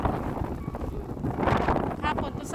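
Strong wind during a snow storm buffets the microphone in a dense, continuous roar with gusting swells, and a voice talks faintly beneath it.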